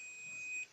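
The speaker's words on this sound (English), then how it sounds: "Beeping sound is correct." A continuity tester gives a thin, steady high-pitched electronic beep for most of a second, then cuts off; quiet background.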